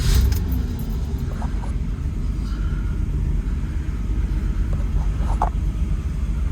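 A 1965 Ford Mustang with its 200 inline-six and a T5 five-speed conversion drives for the first time, a steady low engine rumble with wind buffeting the microphone and a few faint clicks, no voices.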